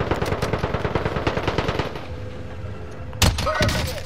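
An automatic weapon fires rapid, close bursts in a first-person shooter for about two seconds. The shots fade to a low background hum, then one sharp burst cuts in near the end.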